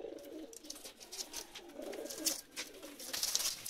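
Pakistani pigeons coo in soft, repeated throaty rolls close by, mixed with rustling and fluttering noises.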